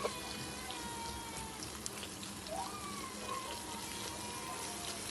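Pieces of buffalo heart fry in a hot masala with a dense, continuous sizzle and crackle. A faint rising tone cuts through briefly in the middle.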